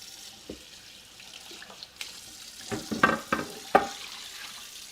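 Tap water running while dishes are washed beside a simmering pot, soft splashing with a few sharper clatters and knocks of dishware toward the end.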